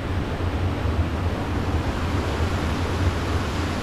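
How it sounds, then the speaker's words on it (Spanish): Strong river current rushing near the Las Pilas waterfall trail in Arambala, Morazán, El Salvador, a loud, continuous broadband roar of water with no voices. "Qué fuerte la corriente ahí"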